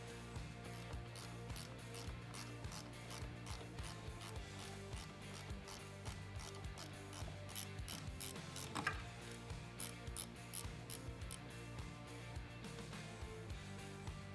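A ratchet works bolts loose at the back of a Harley-Davidson M8 Touring motorcycle transmission, with quiet, rapid clicking bursts repeating steadily at close range and one sharper knock partway through.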